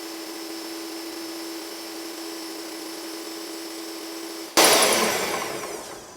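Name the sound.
electric mixer beating carrot cake batter at high speed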